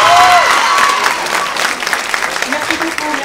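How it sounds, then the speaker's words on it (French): Audience applause at an awards ceremony, loud clapping at the start that thins into scattered claps while a voice talks over it. "j'aimerais vraiment qu'on applaudisse Lina"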